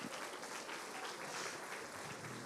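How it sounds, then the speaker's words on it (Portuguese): A church congregation applauds, a soft, steady wash of many hands clapping together, distant and low in level, continuous for a couple of seconds with no voices on top. "Vamos aplaudir o Gil que não deu certo."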